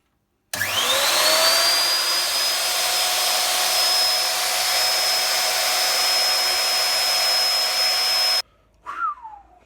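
A router with a Rockler signwriting kit spins up to a high, steady whine and runs continuously for about eight seconds before cutting off, followed by a brief rattle.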